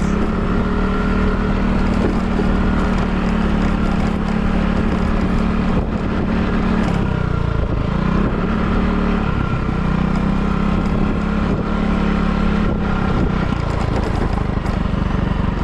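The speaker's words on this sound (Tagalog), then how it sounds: "sa mga nakakapansin ng tunog ng motor ko, wala mga kapangil, sira kasi yung exhaust nya" Motorcycle engine with a broken exhaust, running steadily and loudly up close with a rough, buzzing drone throughout that dips briefly as the revs change, with wind noise and no speech.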